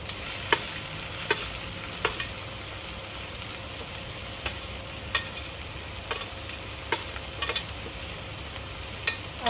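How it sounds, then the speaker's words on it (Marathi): Onions sizzling steadily in a hot pan for a traditional Belgaum divashi dish, with a continuous frying hiss broken by occasional sharp ticks and stirring clicks, no voices. "कांदा भाजून घ्यायचा"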